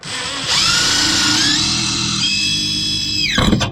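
A power drill drives screws into a ceiling skylight cover, its motor whining up loudly and holding a steady high pitch for nearly three seconds before winding down with a rattle.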